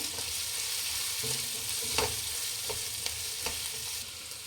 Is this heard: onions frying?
yes